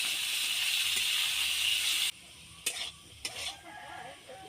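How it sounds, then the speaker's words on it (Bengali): Potatoes frying in hot oil give a loud, steady sizzle for about two seconds, then the sound drops to a quieter crackle broken by a few sharp clinks and stirring noises. "এবার আলুগুলো ভেজে নেব।"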